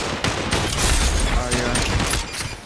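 Rapid gunfire in the Population One VR battle royale game, a dense burst of loud overlapping shots and booms filling the whole moment, close and continuous, with a voice faintly underneath.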